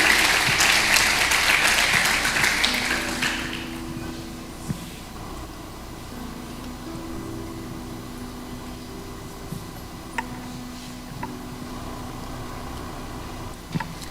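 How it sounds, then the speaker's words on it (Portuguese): A church congregation claps loudly and densely for about three seconds, then the applause fades out, leaving a quiet room hum with a few faint knocks and a low steady tone. "Vamos aplaudir nosso Deus bem forte, em nome de Jesus."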